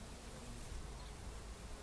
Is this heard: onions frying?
no